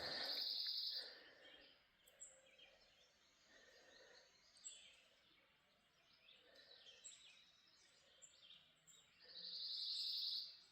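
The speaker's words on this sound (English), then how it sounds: "Just the birds." Birds sing in the morning woods beside a creek on the Appalachian Trail, faint and distant, with shrill high calls at the start and end and softer chirps between.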